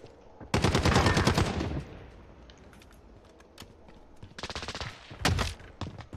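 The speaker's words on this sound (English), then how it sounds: "Yeah, the shots are coming right from there, Kyle." Gunfire from the shooter Call of Duty: Modern Warfare, two loud automatic bursts of rapid shots separated by quieter stretches with scattered distant pops.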